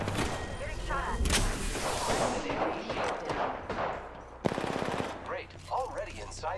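Automatic weapons fire rattles in rapid bursts during a video game firefight, loud and close, with a sharp impact near the middle and a player's voice talking over part of it.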